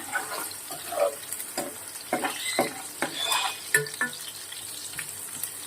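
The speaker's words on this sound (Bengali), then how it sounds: "এই তেলের মধ্যে আমি পেঁয়াজটা ভেজে নিয়েছি।" Onion frying in oil in a pan with spiced chicken curry being made nearby, heard as a soft crackle broken by repeated scrapes and clinks of a stirring utensil against the pan, close up with no talk.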